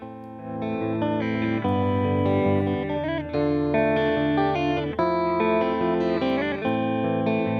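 An electric guitar played through an amp simulator's distortion setting rings out in sustained, heavily saturated chords and notes, loud and continuous with short breaks between phrases.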